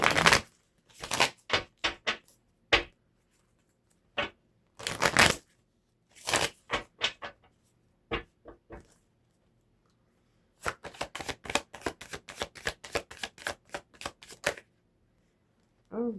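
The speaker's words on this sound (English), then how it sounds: "Let me get a shuffle here." A deck of tarot cards is shuffled close up in loud, crisp riffling bursts separated by short pauses, with a longer run of rapid slaps near the end.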